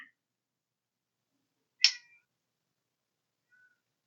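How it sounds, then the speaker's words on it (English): A house cat lets out a single short meow in an otherwise silent room, near and clear, followed by a faint, brief trailing sound. "And now my other cat is crying."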